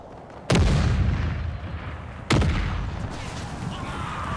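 Canister artillery firing in the Empire video game, two heavy booming shots about two seconds apart, each a sharp crack followed by a long rumbling decay over a constant battlefield din.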